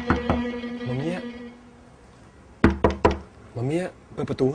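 Sharp knocks on a door in a short Thai drama, a pair near the start and a tight cluster of raps later, heard between spoken lines.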